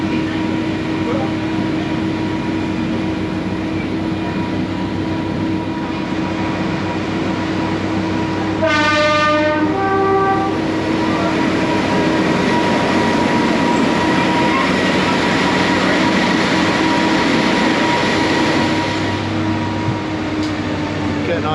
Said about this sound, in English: Enjoying your train ride